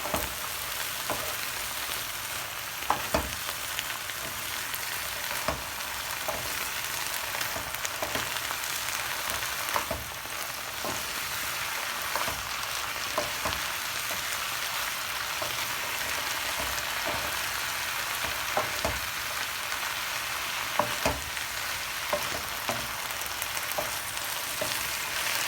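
Vegetables sizzle steadily in a hot pan with soy sauce and mixed herbs over a high flame, a constant loud frying hiss broken by occasional clatters of stirring, with no voices.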